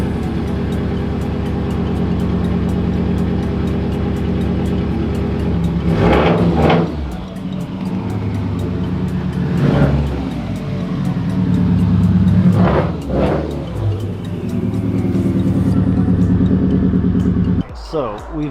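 A car pulls out after a rear-end alignment, its engine holding a steady hum with several short rev surges and rising roars, close and fairly loud.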